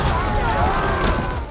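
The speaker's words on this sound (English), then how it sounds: "The explosion sent several people flying, and made the others hesitate to rush forward." A detonator-triggered blast rolls out as a loud, sustained rumbling boom, heavy low-end roar spreading evenly across the short moment before slowly easing off.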